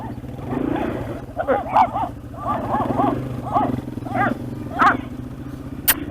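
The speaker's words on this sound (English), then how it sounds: "Watch out, it's a pack of fox terriers." A pack of fox terriers barks and yaps repeatedly in quick, overlapping bursts, close by, over a steady low engine rumble from a vehicle.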